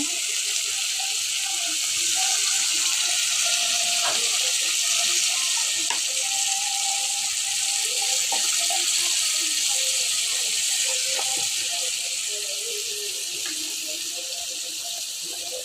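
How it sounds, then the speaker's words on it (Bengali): Water is poured into a pan of banana flower and prawn curry as it cooks, giving a steady hissing, sizzling wash that carries on for about fifteen seconds close by, with faint clinks now and then. "এখন আমি একটু জল দিয়ে দেব"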